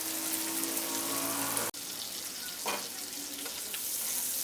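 Shrimp frying with vegetables in a pan gives a steady, close sizzle with light crackling and one brief stir or scrape partway through, and no one speaking.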